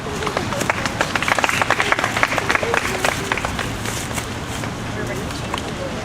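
A crowd at the Richmond United rally claps for a speaker. Sharp hand claps stand out clearly for the first few seconds, then thin into a softer patter, with people talking throughout.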